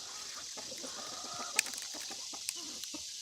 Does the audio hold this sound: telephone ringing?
no